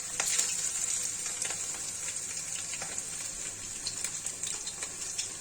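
Mourala fish fritters fry in deep oil over a low gas flame, giving a steady, moderate sizzle and crackle with faint scattered pops and no talk.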